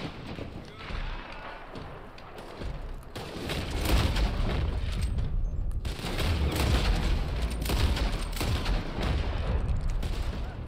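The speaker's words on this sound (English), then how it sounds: "Why did that sound like a sniper shot?" Gunfire rattles through a Red Dead Online multiplayer match, with dense, continuous volleys of shots and booms that swell in two long waves while players talk over the din.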